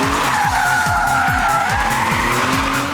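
A BMW's tires skid and squeal as the car slides into oversteer on a race track, a loud, continuous scrub laid over a steady pulsing engine drone for the whole stretch.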